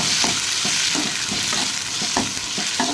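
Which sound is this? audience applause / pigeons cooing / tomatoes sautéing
tomatoes sautéing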